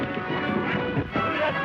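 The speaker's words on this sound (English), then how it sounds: "Turn those horses loose." Horses clopping and moving in a 1931 Western film scene, a steady, muffled patter of hooves under a dense, noisy old soundtrack.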